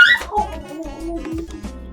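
A pet dog close by lets out a whiny, yelping bark that slides into whimpering yips and moans, continuing for about two seconds indoors.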